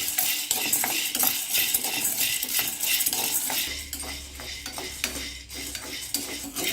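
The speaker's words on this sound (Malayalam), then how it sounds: "ആദ്യം പുളിയവര വറുക്കാം" Winged beans being dry-roasted in a pan for Vishu kanji, with repeated metallic scraping and clinking of a spatula against the pan and light rattling of the beans, close and fairly loud with no talking.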